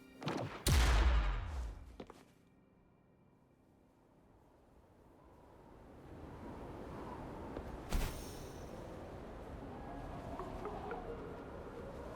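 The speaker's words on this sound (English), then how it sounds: "Perhaps we can create an opening in this disk with an explosion." An explosion blasts open a rock disk in the video game Wuthering Waves: a loud, close boom with a crackling tail, then a low rumbling bed of debris and one more sharp thud.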